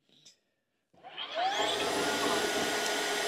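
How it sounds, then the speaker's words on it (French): A Tineco S9 Artist cordless vacuum's docking station runs its self-cleaning and drying cycle on the hose: a brief blip, a short silence, then a loud motor whine that rises and holds steady nearby. "Alors là, il est en train de nettoyer le tuyau."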